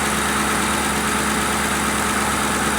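An old police car engine idles steadily after being parked for years, a loud, even rumble with a constant low vibration and no voices.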